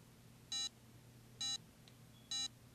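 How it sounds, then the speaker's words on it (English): Three evenly spaced electronic beeps like an alarm clock from the video game Sonic Battle, each short and bright, sounding alone over a low steady background hum. "Sounds like an alarm clock."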